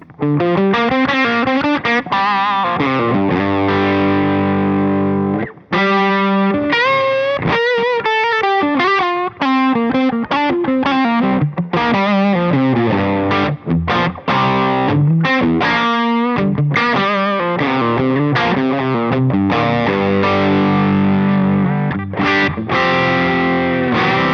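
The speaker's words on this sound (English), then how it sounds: "Let's give it more gain. And again, I'm heading to my bridge pickup." High-gain electric guitar on the bridge pickup through a JHS NOTADÜMBLË pedal playing a lead line, saturated and sustaining, with quick runs and brief gaps, loud and close throughout.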